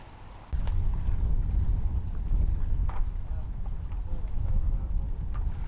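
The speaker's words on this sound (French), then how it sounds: "L'effet Venturi entre Santo Antão et São Vicente nous oblige à diminuer notre surface de voile afin de supporter les rafales de 35 nœuds." Strong wind gusts of around 35 knots buffet a sailboat crossing the Venturi channel between Santo Antão and São Vicente in Cape Verde, a loud continuous roar of wind on the microphone with water rushing beneath, starting abruptly after a brief quieter moment.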